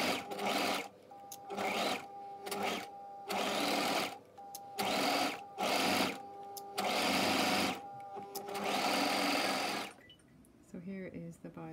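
A sewing machine stitches bias binding along a fabric edge in about half a dozen bursts of rapid, steady mechanical whirring separated by short pauses, close and clear, ending in quieter handling.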